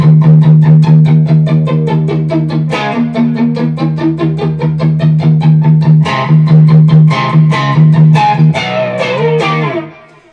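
An electric guitar played through a flanger on a Line 6 Helix rig, a loud sustained chugging riff with sweeping, whooshing tone, close and alone before fading at the end.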